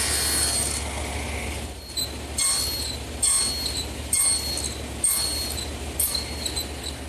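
Table saw taking repeated nibbling passes through wooden rails, a steady motor drone broken by roughly six short, rhythmic cutting bursts, each with a brief dip as the blade clears the stock.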